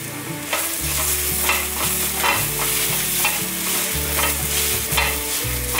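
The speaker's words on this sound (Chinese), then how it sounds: "姜丝大约炒了20秒左右" Shredded ginger sizzles in hot oil in a wok with golden-fried tofu skin. A spatula scrapes and stirs in repeated rhythmic strokes over a continuous close frying hiss.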